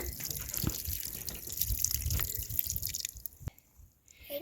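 Water dripping from a bucket shower right after it is switched off: irregular drops and small splashes falling close by, trickling then thinning out to sparse single drips.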